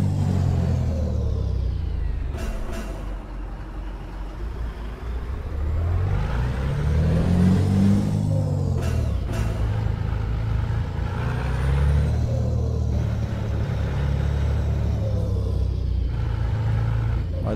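Mercedes-Benz Axor cattle truck idling and maneuvering while parking, a deep continuous diesel rumble with rising and falling revs and a couple of short air-brake hisses, loud and close throughout.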